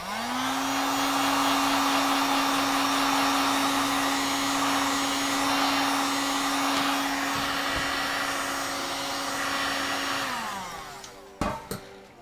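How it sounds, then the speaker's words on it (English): A heat gun blows steadily with a loud, even whine as it shrinks a sleeve over a PTFE Bowden tube mesh for a 3D printer, then winds down and stops, followed by a few sharp handling knocks. "we start to heat shrink it"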